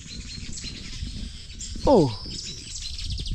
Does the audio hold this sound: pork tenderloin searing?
no